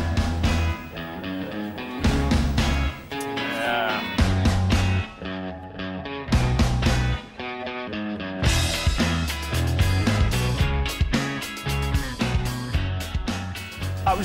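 A song plays loud and full, with driving drums, bass and guitars and a steady upbeat rhythm, with no talk over it.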